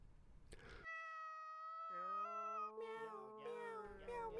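Cats meowing: a drawn-out, steady, tonal cry followed by a wavering, rising-and-falling meow, loud and close, with no talk over it.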